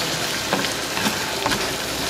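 Shrimp cooking in a garlic butter pan for lobster scampi, giving a steady broadband sizzle with a few soft stirring scrapes, close and fairly loud, with no voices.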